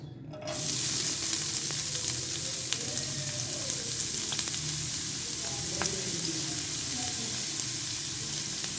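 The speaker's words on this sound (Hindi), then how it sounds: "अब हम इसमें डालेंगे प्याज।" Chopped onions hit hot oil in a pan for an Afghani omelette, bursting into a loud continuous sizzle that holds steady with occasional crackles and faint tonal clinks.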